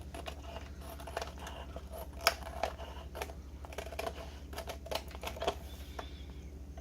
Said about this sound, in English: I think I'll trim this side down a little bit.